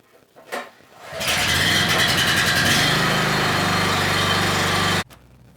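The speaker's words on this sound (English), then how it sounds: "This is small machinery, it's got a small engine, but it's still very loud." A walk-behind tractor's small engine starts up and runs loudly and steadily for several seconds, close by, then cuts off abruptly.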